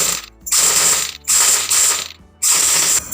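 A sewing machine stitches folded fabric piping for a blouse back neck in three loud mechanical bursts, each a rapid ratcheting run separated by short pauses, with no talking.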